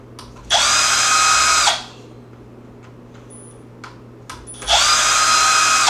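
Power drill taking screws out of the back of a Traxxas Slash 4x4 RC truck, with two loud sustained whirring bursts at the start and end and a few small clicks and handling noises between them.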